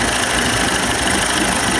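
A 1990s 30 hp Evinrude outboard motor idles steadily with a dense, even mechanical drone and no breaks or voices.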